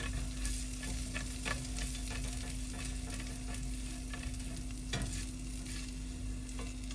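An egg fries in a hot pan, sticking a little, with a soft, steady sizzle and a few scraping taps from a utensil, heard close with no talking.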